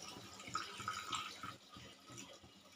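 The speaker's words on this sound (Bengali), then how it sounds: "এখানে আমি অল্প জল অ্যাড করছি" A little water is poured into a pan of spicy aloo dum, a brief, faint splashing trickle with soft, uneven bubbling pulses.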